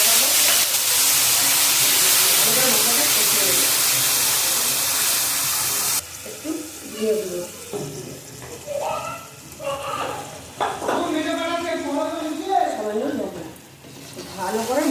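Spice paste of ground coriander, green chili and ginger frying loudly in a pan, added after bay leaf and dried red chili, with a strong steady sizzle that later settles into a softer crackle under a person talking.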